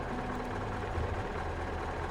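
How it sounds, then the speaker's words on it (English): A truck engine idles in the SnowRunner video game, a steady low rumble with a faint droning hum that holds evenly throughout. "And then turn off that engine."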